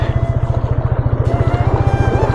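Yamaha FZ motorcycle pushing through deep water, its engine thumping in a fast, even pulse close up and loud, with splashing and churning water over the top.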